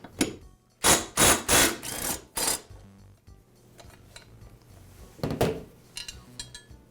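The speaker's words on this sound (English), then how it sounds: "The blade is secured with one bolt, and I'll go ahead and remove it." A bolt holding the blade of a Husqvarna lawn mower is loosened with a hand tool, giving several loud, close metallic clanks and ratcheting bursts in quick succession, then quieter scraping and a final clatter.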